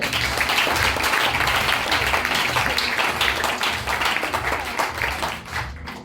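A church congregation applauding together, dense sustained clapping from many hands with a faint rhythmic low beat underneath, steady and loud before tapering off at the end.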